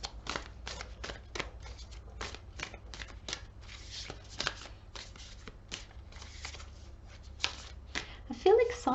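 Oracle cards being shuffled and drawn for a tarot reading, a quick run of crisp riffling snaps and papery slaps repeating through the whole stretch, close and fairly soft, with a voice speaking over part of it.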